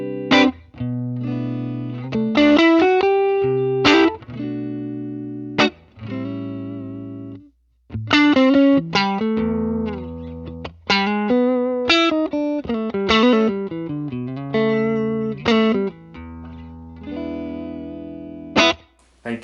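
An electric guitar played through a Line 6 Helix amp modeler preset plays a run of chords and single notes with a driven amp tone, phrases separated by short pauses.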